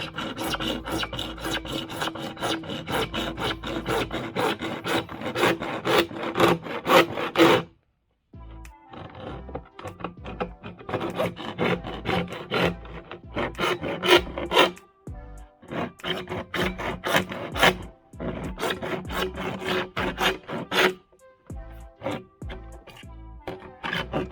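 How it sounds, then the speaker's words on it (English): A PVC pipe cutter works through a 90 mm stormwater pipe with loud, rhythmic rasping strokes in fast runs, broken by brief pauses and then resuming. "This is a PVC pipe cutter."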